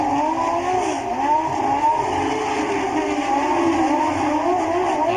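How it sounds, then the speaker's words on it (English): Formula One race car in the pit lane, its engine giving a loud, close, sustained whine that rises and falls as it moves, with no voices. "And here comes Senna into the pits"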